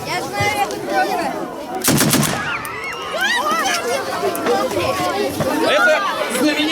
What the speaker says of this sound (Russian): Стреляет громко, прижмите ушки, если нет.